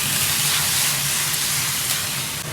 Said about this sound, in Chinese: 把这个鸡肉给它煸上色，来点料酒